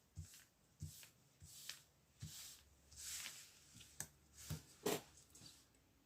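Tarot-style cards being shuffled for a card reading on friendship, a series of soft close riffles and slaps coming in uneven bursts, quiet and with no talking.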